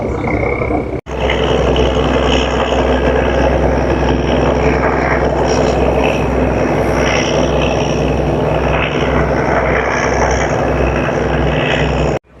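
A ro-ro ferry pulls away from the jetty at Fort Kochi, its engine giving a steady, loud, low droning rumble that runs unbroken throughout with no voices.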